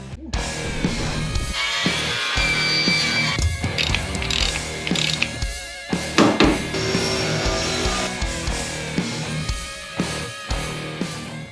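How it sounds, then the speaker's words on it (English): A wire wheel on a power tool cleaning a vehicle fuel tank, a continuous loud harsh grinding and rattling that varies in pitch as the wheel works across the metal. "Wire wheel on a gas tank."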